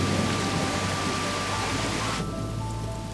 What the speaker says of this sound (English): As feared, the hail quickly turns into a downpour.